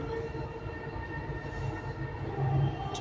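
A Dubai Metro train near Rashidiya Station rumbles by with a steady low drone and tonal hum, a brief louder swell near the end, and no talk.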